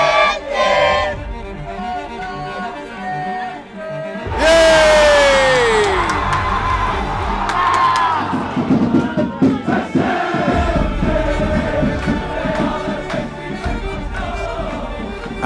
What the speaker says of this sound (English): the Green Brigade were back in the stadium, cheering on Celtic, with a very powerful message